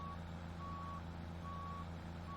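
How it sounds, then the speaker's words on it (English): Cement truck in Farming Simulator 17 reversing, its backup alarm giving steady evenly spaced beeps over a constant low diesel engine hum, alone without talk. "we'll hop here in the cat cement truck, and we'll get backed up here"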